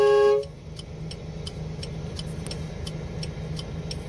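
A car horn is tested during a vehicle systems check, giving one short loud honk at the start, then clicking ticks repeat at a steady rhythm over a low idling hum.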